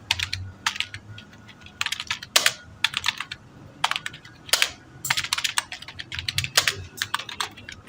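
Computer keyboard typing in MS Word comes in irregular bursts of crisp clicking keystrokes with short pauses between words, close and clear, no talk.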